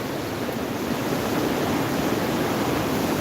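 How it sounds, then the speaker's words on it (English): Continuous broadband roar of Niagara Falls water pouring on an overcast day, a steady dense wash heard from a nearby bridge, loud and unbroken with no voices over it. "the whole fucking bridge feels the roar of the water of the falls over there."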